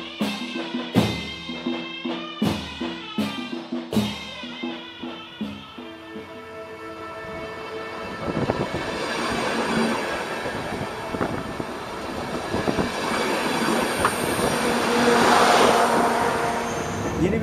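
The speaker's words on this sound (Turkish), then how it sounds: "Yeni bir tren seyahatindeyiz." A passenger train rolls along the rails on a journey through Iran on the Silk Road route, a steady rumble and rattle building and swelling louder after a few opening tonal chords.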